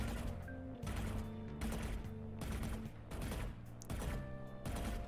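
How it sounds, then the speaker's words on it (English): Rapid automatic gunfire from a shooter video game, fired in several sustained bursts with short pauses between them, loud and close, with no talk. "I want you to move and shoot."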